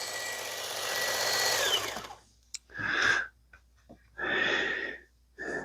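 Rosecraft Otter Creek Barlow knife sharpened on a Work Sharp belt sharpener: a steady grinding whir for about two seconds, then three short separate passes with a buzzing hiss, quiet gaps between them.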